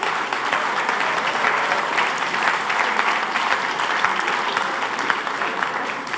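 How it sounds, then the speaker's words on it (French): Sustained applause from the audience at the Swiss final of a science-communication thesis contest during the prize ceremony, thick and even clapping that continues for six seconds. "une salve d'applaudissements que je redirige vers les candidats qui sont là"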